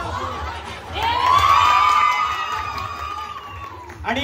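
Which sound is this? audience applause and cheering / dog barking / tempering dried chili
audience applause and cheering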